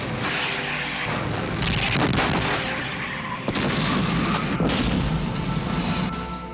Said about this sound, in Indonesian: artileri raksasa Jerman Sewer Gustav menembakkan peluru berkaliber 80 cm ke langit